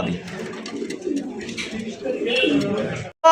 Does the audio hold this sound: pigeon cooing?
yes